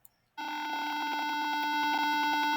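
A simulated Arduino musical keyboard circuit in Tinkercad sounds one electronic tone after a button press, a steady buzzy square-wave beep starting abruptly after a brief silence and holding to the end.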